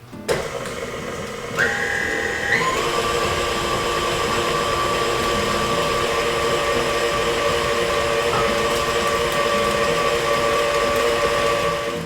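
An electric mixer runs at medium speed, beating eggs one at a time into banana bread batter, giving a steady, close whirring whine with hiss that holds for the whole stretch, with no talking.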